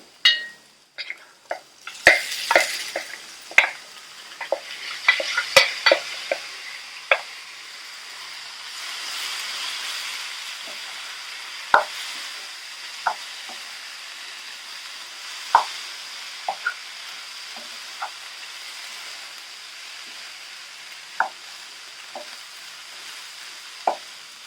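Boiled chana dal sundal tossed into a hot pan with curry leaves, a soft steady sizzle under sharp, irregular spoon clinks and scrapes, busiest at first and then spaced out.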